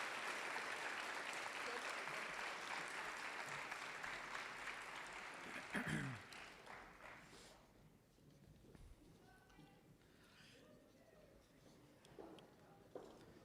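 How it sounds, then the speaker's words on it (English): Applause at a high school senior awards assembly rings out in a large hall, a broad, sustained clapping that fades after about six seconds into quieter room noise with faint voices and movement. "Give them a big round of applause."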